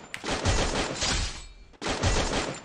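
Rapid gunfire bursts in a shooter video game, loud dense volleys broken by a short gap, with no talking over them.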